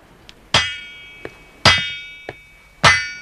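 Hammer blows on metal during a radar repair, three sharp ringing clangs spaced about a second apart, each with a lighter tap between, close and alone.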